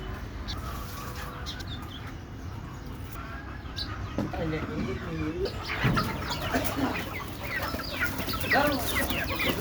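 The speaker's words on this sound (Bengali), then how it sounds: "মুরগিগুলো ছাড়তেছি" Free-range native chickens are let out, clucking and calling repeatedly at close range over a steady outdoor background.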